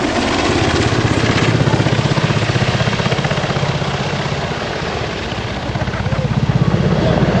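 An EH101 Merlin helicopter flies a maximum-rate teardrop turn at an air display, its rotor beating in a loud, rapid chop over a heavy engine roar that swells and eases slightly as it banks.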